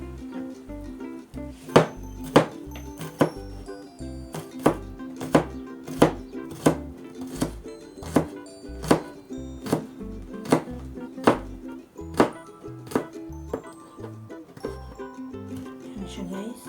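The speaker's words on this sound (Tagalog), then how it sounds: "Ayan yung bawang. Iwain na rin siya guys ng maliliit." Garlic chopped into small pieces with a knife on a cutting board while okoy is prepared, heard as a steady run of crisp, evenly spaced blade strikes close up.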